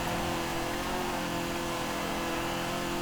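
A heavily upgraded, modified car engine in the racing game Forza Horizon 4 drones loudly and steadily, holding a sustained, gritty tone over dense noise with no talking.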